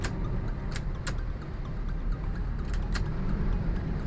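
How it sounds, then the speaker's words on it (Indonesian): A car's turn signal ticking in a regular rhythm inside a manual car, soft clicks repeating over a low steady cabin hum. "ini lampu kedip"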